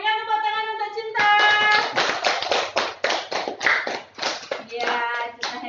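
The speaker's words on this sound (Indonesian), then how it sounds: "berikan tepuk tangan untuk Cinta." A class bursts into lively applause for a student named Cinta, many small hands clapping in quick uneven bursts, loud and close, with a sung or spoken voice briefly over the start and end.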